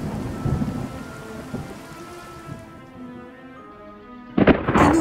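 Rain pours steadily amid rolling thunder, a heavy rumbling storm in a great-flood scene that fades to a quieter hiss before a sharp, loud thunderclap bursts near the end.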